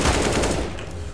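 A burst of rapid gunfire from the video game CS:GO, loud and close, firing as a quick automatic volley that fades within about a second.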